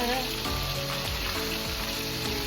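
Loud, steady sizzling of buttermilk-battered chicken breast frying in hot grease, close up, with a dense crackle that never lets up.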